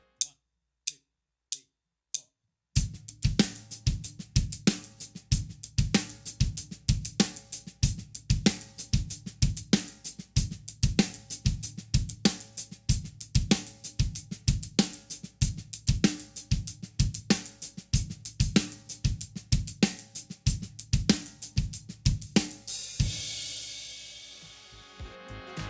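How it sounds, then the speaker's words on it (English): A drum kit lays down a steady groove of bass drum, snare drum and hi-hat, close and clear, after a few lone count-in clicks, and keeps a repeating pattern for over twenty seconds before a cymbal rings out at the end. "And now adding the bass drum and snare drum with the hi-hat, the groove sounds like this."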